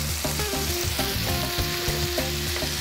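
Chicken and onion fry in a pan with paprika while making chicken tacos, giving a steady, dense sizzle with crackling and stirring throughout. No one speaks.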